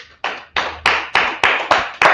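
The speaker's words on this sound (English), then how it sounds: "Clap it up." A history class claps in seven separated bursts, each a sharp group hit that fades quickly, close and loud, with no voices over it.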